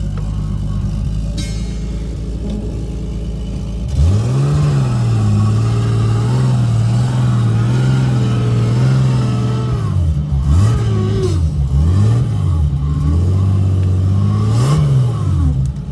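BMW E46 M3 engine pulling away on a drive: a mid-pitched straight-six drone that climbs and settles through repeated rises in revs, loud and close, with no talking.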